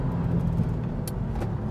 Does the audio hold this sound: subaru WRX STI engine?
yes